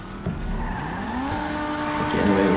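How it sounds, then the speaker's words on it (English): Car drifting in GTA V with tire squeal, rising engine tones and skidding noise running throughout, loud and close, with a voice talking over it. "Little nice drift."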